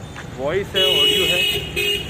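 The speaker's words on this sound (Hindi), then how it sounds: "हॉर्न वगैरह आप सुन सकते हो कॉन्स्टेंटली" A steady, fairly loud car horn toots repeatedly through the background while someone talks over it.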